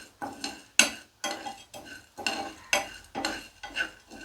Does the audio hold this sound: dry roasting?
yes